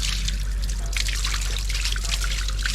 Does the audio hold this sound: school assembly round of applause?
no